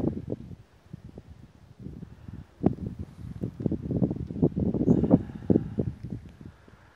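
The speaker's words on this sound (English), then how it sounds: "It is windy." Gusty wind on Hunter Mountain in February buffets the microphone in uneven low rumbling bursts that rise and fall over several seconds.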